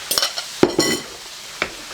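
Salsa being lightly mixed into cooked courgettes in a hot pan: a few quick scrapes and soft utensil clinks over a faint sizzle, close and brief.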